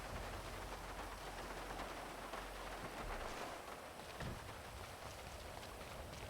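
Rain drums steadily on a rooftop in the game Grand Theft Auto V, a soft, even wash of drops with a faint low rumble early on and no talking.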